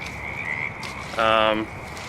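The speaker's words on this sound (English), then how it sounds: "You can hear all the frogs chirping out there." Frogs croak in a steady chorus, with one loud harmonic croak rising clearly from the background for about half a second.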